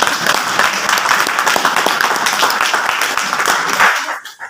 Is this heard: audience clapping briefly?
yes